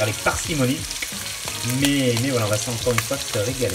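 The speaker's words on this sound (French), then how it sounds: "Et on fait cuire un petit peu de viande." Red meat frying in a pan, a continuous sizzle with stirring scrapes, while someone talks over it.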